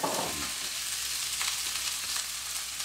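Eggs frying in a pan alongside already-cooked rice for egg fried rice, a steady broadband sizzle with a brief louder burst at the start as they hit the hot pan, close and continuous with no voices.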